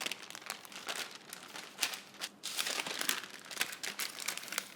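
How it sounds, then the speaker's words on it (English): Parchment paper crinkles and crackles continuously while it is used to roll a stuffed seitan roast in a kitchen, giving close, busy bursts of crumpling with no talk. "And then take your parchment paper and use that to help you roll this."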